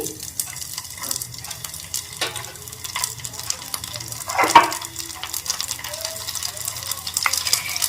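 Grated ginger and garlic stirred in a frying pan for tomato soup, giving a soft sizzle under intermittent scraping of a spoon, plus one sharper clink midway, close and steady with no talk.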